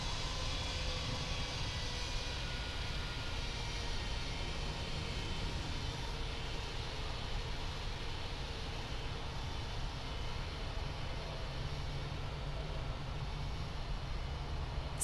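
An airliner taxies to parking at Sydney Kingsford Smith in the Infinite Flight game, giving a steady, even jet-engine hum and rumble that holds constant throughout with no speech.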